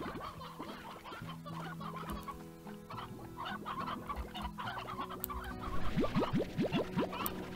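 A rooster in the video game Slime Rancher clucks repeatedly in short bursts over a low steady hum, with a few springy bouncing boings near the end.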